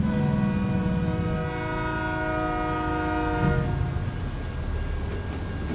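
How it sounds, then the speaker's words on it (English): A train in American Truck Simulator rolls past with a loud, sustained multi-tone horn blast lasting several seconds, over a steady rumble of rail cars that continues after the horn stops. "I love to watch trains in here."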